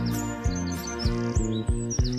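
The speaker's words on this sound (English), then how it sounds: "All the birds are singing" Songbirds chirp and tweet in a bright, repeated pattern, with a steady layer of tones underneath and no voices.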